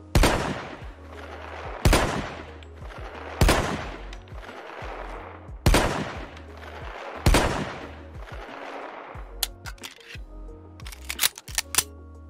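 Wildey Survivor pistol firing in a Fallout 4 mod, five loud spaced single shots with ringing tails, followed by rapid sharp clicks and clacks of handling or reloading, no talking.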